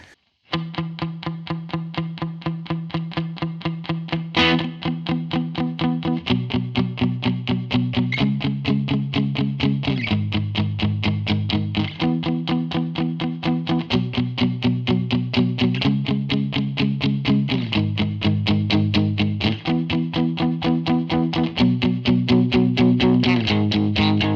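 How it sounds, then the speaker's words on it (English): Distorted electric guitar on a Telecaster bridge pickup through a Line 6 Helix plays a fast, steady chugging riff, changing chords every few seconds, with a bright, thin, buzzing tone. "that setting there gives us this sound on the bridge pickup on the Tele"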